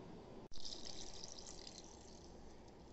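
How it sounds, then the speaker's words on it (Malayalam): Water poured into an idli pot while making grape juice, a steady close splashing fill that starts suddenly after a brief click and continues evenly, fairly faint. "അതിനായിട്ട് നമുക്ക് വെള്ളം ഒഴിച്ച് കൊടുക്കാം."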